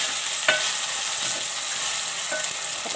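Minced meat frying in a pan for a keema and capsicum dish, a loud continuous sizzle with occasional scraping strokes of a spatła being stirred through it, close up and without any voices.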